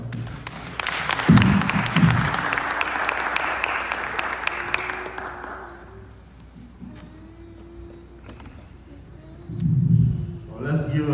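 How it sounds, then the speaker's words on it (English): An audience gives a professor a round of applause. The dense clapping is loud for the first few seconds and then fades out, and talking comes up under it and after it. "let's give Professor Zamanga another round of applause"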